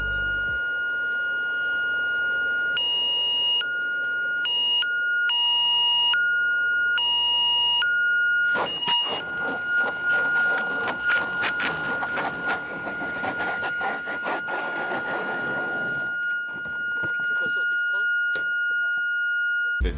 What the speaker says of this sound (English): even though the alarm was sounding.